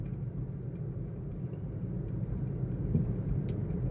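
Car cruising along a rural road toward a durian orchard, a steady low rumble of engine and tyres from inside the cabin, constant and moderately loud with no speech.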